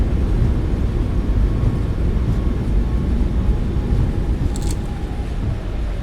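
A Boeing 737 MAX 8 in a flight simulator game roars with reverse thrust after landing, a loud, dense, steady rumble and rush that holds at full strength for several seconds.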